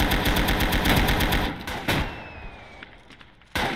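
Machine gun fire in the World War II game Gates of Hell: Ostfront, a rapid sustained burst of automatic shots close by that breaks off, followed by a few single shots and a final loud report.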